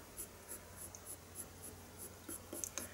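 A colored pencil shades on paper in soft, repeated scratching strokes, close and very faint, with no talking.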